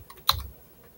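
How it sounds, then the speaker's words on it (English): A single sharp keypress on a computer keyboard, one close click followed by a faint trailing tap, alone with no voice. "So all you want to do, just type in Kizzy.com."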